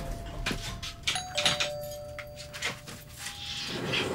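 Apartment doorbell ringing in a few electronic ding tones, fairly quiet and close, amid light background noise and small knocks.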